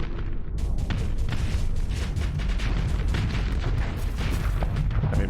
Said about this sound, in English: I love how effective simple rockets are.